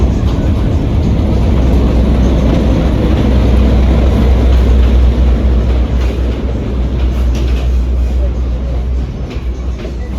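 A crowded passenger train running from Trincomalee to Colombo gives a loud, continuous low rumble and rattle of rail cars throughout, easing slightly near the end, with faint voices blended into the din.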